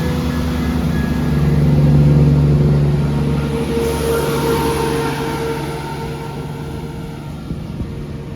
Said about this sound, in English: Departing out now is the 1237 ScotRail service from Aberdeen to Montrose.